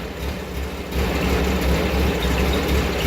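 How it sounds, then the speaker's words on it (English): A car exhaust idling with a newly installed catalytic converter after the muffler, a steady low rumble that grows a little louder after the first second, continuous and close. "Sounds kind of like a little more modern-ish on the exhaust note"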